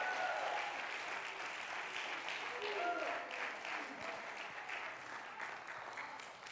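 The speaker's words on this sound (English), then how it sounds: "somebody clap your hands if you're starting to believe again" A church congregation claps their hands together in a sustained, dense burst of applause that fades gradually, with voices mixed in beneath the clapping.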